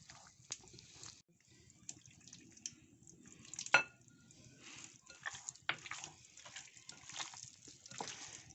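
Chicken fritter batter being stirred and mixed by hand in a bowl, giving soft wet sloshing and scraping with scattered small clinks, fairly quiet and close, with no talking.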